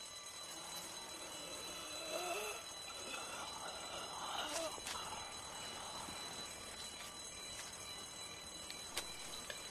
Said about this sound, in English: Never a good thing when an alarm clock goes off.